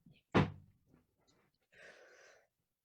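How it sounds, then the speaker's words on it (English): A door shutting indoors, one sharp thud that fades quickly, preceded and followed by faint small noises and a brief breathy rustle, otherwise quiet. "it sounded like the door"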